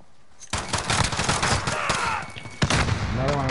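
Gunfire in Call of Duty: Modern Warfare, a dense burst of rapid shots starting suddenly and continuing as sustained loud fire with a sharp blast partway through and a ringing whine under it.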